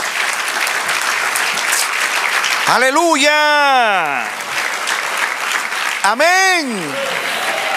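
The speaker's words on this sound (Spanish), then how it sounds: "Dale un aplauso al Señor." A church congregation claps during a Spanish-language sermon, a dense, steady patter of many hands that runs throughout while a voice rings out in loud, drawn-out exclamations over it twice.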